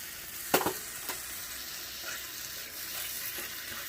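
Tomato sauce and broth are stirred into a hot, sizzling pan for a chiles rellenos sauce, with a sharp clatter of the spoon near the start over a continuous close frying hiss.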